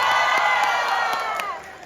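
A live audience in Dublin, Ireland claps and cheers during a clapping contest at a comedy show. The dense, loud roar of the crowd has shrill whoops on top and fades slightly at the end.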